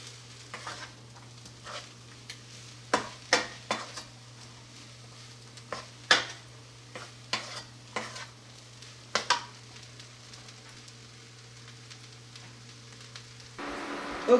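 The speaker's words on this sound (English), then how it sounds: "of raw onions that are going to cook and simmer for a little while" Raw onions sizzling in a hot pan for fried rice, a soft steady sizzle with repeated sharp clanks and scrapes of stirring utensils against the pan, close up, with a low hum beneath.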